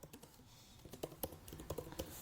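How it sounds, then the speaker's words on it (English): Rapid, irregular clacking of a computer keyboard while a resume is entered into a Framer website, close and fairly quiet, with brief pauses between bursts of keystrokes and no talking. "So I'm just typing it here."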